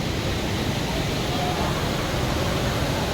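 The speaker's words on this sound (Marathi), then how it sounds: "पण पाहायला धबधबा फारच सुंदर होता" A waterfall on the road to Munnar roars as a steady, dense rush of falling water, broad and continuous for the whole stretch with no pauses, fairly loud and close.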